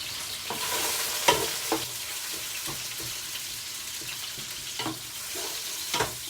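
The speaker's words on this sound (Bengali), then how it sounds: "এই জন্য আমি মাছটা ভেজে নিচ্ছি" Fish fries in a pan before it goes into an eggplant fish curry, giving a steady close sizzle broken by a few sharp spatula clicks and stirring scrapes.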